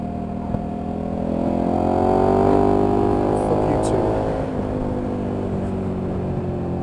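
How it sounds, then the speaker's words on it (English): A car close behind accelerates hard to stop another driver overtaking, its engine rising into a sustained swelling roar that peaks midway, then settles, with a person talking over it. "He sees me pull out looking for an overtake and he puts the boot down."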